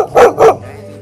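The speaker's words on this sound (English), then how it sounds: "There's doggies here." Two loud, close dog barks come in quick succession at night near Chaweng Beach on Koh Samui, followed by quiet.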